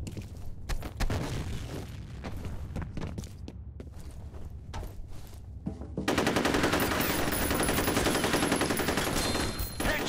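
A Counter-Strike team deathmatch on the Docks map, with rapid gunfire and sharp impacts throughout, then a loud grenade blast that gives way to a sustained roar of shooting and explosion noise.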